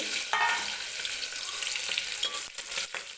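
Green chillies, curry leaves and whole spices frying in hot oil for jeera rice, an intense close hiss and crackle of spluttering that stays steady, with a few brief dips near the end.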